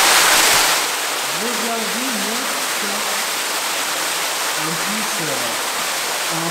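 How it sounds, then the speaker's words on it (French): A waterfall inside the Trabuc cave in the Gard roars as a steady broadband wash that fills the whole clip, with a voice talking over it. "Parce que juste devant moi, je pense que vous pouvez l'entendre, il y a une cascade."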